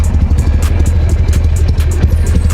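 Harley Sportster 883 motorcycle engine idling close by, a steady low throbbing rumble with faint clatter running continuously and unbroken, no voices over it.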